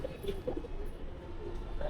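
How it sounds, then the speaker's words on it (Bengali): An older pigeon coos softly nearby, several low, rounded calls repeating at a steady pace against a dull indoor background. "এটা পুরনো কবুতর"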